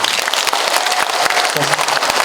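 Dense, loud applause from a crowd thanking organisers at a 2022 Muan County long-term care workshop for care workers, continuous clapping filling the whole stretch with a brief voice faintly underneath.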